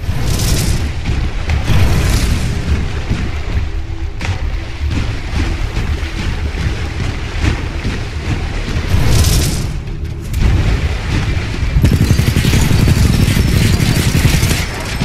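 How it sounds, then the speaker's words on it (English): In Titanfall 2, the Tone titan's tracking rockets explode in a loud, sustained barrage, with deep booming blasts and engine rumble filling the scene and several sharper bursts rising above it. "with the tone loadout, we can lock onto enemies and target them with tracking rockets"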